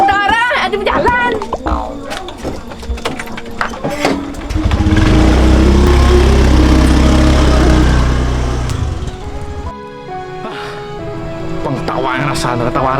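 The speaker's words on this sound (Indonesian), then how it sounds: "Motor ada berjalan." Motorcycle engine running nearby at a steady drone, swelling louder in the middle of the stretch before easing off, with people chatting and laughing over it throughout.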